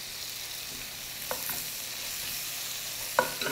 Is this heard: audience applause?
no